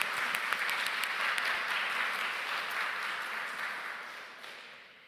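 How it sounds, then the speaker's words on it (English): Audience applause after a welcome and introduction, a steady dense round of clapping that gradually fades toward the end, heard alone with no talk. "I'd like for us to give them just another round of applause"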